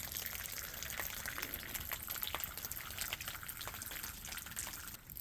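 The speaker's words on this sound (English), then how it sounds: "It's a little dripping waterfall." Meltwater from snow drips and trickles down boulders in a small outdoor waterfall, a continuous soft splashing with frequent close drips, steady and fairly quiet.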